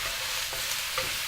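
Chicken stir-fry sizzles steadily in a hot pan while being mixed, a continuous close, loud hiss with faint scraping of stirring and no talking.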